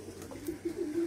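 Soft, low pigeon coos repeat in short bursts, close by and fairly quiet.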